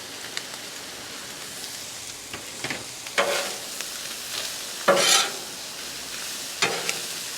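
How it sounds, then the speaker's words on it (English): Flour stirred into about three tablespoons of melted butter in a pan for a beef stroganoff roux: soft crackling sizzle with several distinct scraping strokes of a utensil, close and intermittent. "Once the butter melts, we're going to throw down a couple tablespoons of flour."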